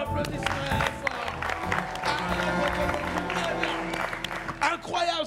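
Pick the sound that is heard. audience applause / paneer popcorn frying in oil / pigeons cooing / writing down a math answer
audience applause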